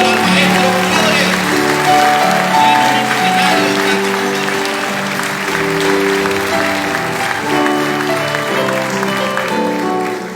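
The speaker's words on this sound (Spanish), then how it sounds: "Los aplausos para el maestro Flores." An audience applauds for maestro Flores at a live guarania music performance, a sustained wash of clapping over sustained music that plays on, with a voice briefly heard.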